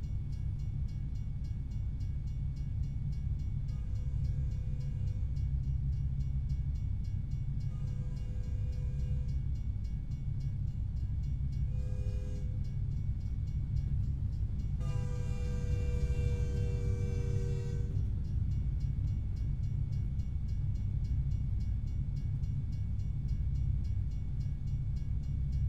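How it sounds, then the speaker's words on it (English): A long freight train passes in the American Truck Simulator game, a steady low rumble under a constant engine drone, with several horn blasts, the longest and loudest near the middle. "Damn, how long is that damn train?"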